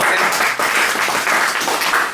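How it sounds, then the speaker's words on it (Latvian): Audience applauding at a LAN party award ceremony, dense steady clapping from a crowd filling the room, close and loud. "ar aplausiem"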